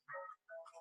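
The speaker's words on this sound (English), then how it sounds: "That's my phone." A phone ringtone goes off during an online group call, two short bursts of melodic electronic tones separated by a brief pause, close and fairly quiet.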